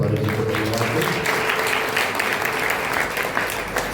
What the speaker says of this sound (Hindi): तालियां बजाकर फादर जी को धन्यवाद दें।